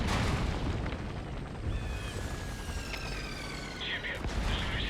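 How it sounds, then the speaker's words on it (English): Distant mortar strikes boom in the Metal Gear Solid V battlefield, dull low rumbles repeating beneath a steady noisy game soundscape with faint tonal whines. "Am I getting mortar struck?"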